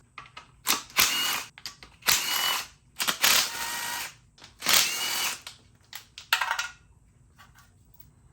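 A ratchet works loose the valve cover bolts on a Kia Spectra engine, in a series of rapid clicking bursts separated by short pauses, close by and fairly loud.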